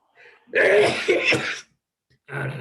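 A sudden sneeze bursts out close by during a Mishnah lesson, followed by a short pause and then a brief murmur of voices.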